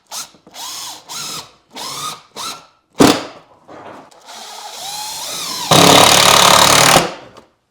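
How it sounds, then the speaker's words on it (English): A concrete drill bores into a wall in several short, loud bursts followed by a longer sustained run, the pulses separated by brief pauses, close and harsh. "Concrete drill."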